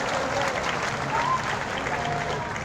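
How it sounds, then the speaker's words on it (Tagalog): Audience at a town gathering in the Philippines applauding, a steady, fairly close wash of many hands clapping throughout, with a voice faintly audible underneath. "At isang mas malakas sa palakpak sa ating Panginoon Diyos siyempre."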